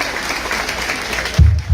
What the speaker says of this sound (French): remercier notre ami Anan, que je vous demande d'applaudir très fort.